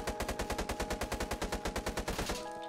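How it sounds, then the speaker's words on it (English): An SMG fires in the video game Jailbird in one rapid, steady burst of about twenty loud evenly spaced shots that stops just before the end, leaving a faint ringing tone. "It's an SMG. It's got a decent fire rate as well."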